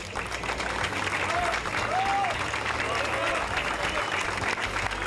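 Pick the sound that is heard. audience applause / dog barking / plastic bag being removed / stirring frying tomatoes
audience applause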